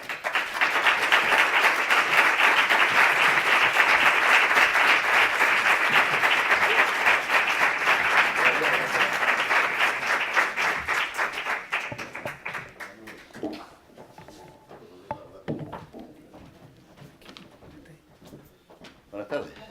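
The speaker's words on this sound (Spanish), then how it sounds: "reciban con un fuerte aplauso a Pedro Peña y a Dorante, su hijo." Loud, dense applause from an audience at a flamenco talk at a university in Cádiz, sustained for about twelve seconds before thinning out to scattered claps and shuffling.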